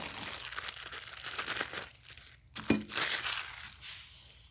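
A razor blade slicing open packaging for coil-over shocks, with close crinkling and tearing of plastic and a sharp crackling cut partway through, fairly quiet.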